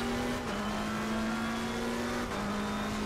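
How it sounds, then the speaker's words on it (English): A race car drifting in Assetto Corsa Competizione holds a steady, loud engine drone with a high sustained tone, dipping briefly twice as revs shift, no voices over it. "It's quite a solid drift."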